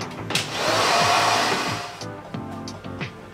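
A hair dryer blows close by on hair coated in henna gel, swelling to a loud steady whoosh and then tapering off, with a few handling clicks.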